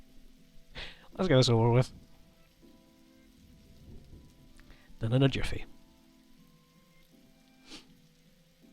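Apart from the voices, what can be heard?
rain in the video game The Darkside Detective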